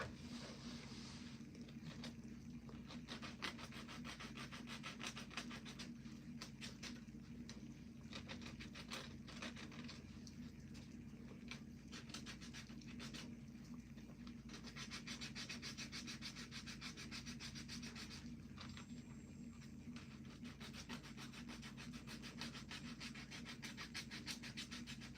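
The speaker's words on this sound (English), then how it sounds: "I'll just use this nail file just to buff the rest of it off." A nail file buffs a fingernail at home in a DIY manicure, giving a faint, continuous rapid scratching rub in quick repeated strokes with no talking.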